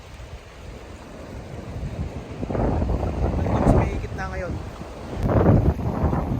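Steady sea wash and gusting wind at a Taiwan shoreline, broadband rumble swelling and easing with heavy wind buffeting on the microphone, while a person talks over it.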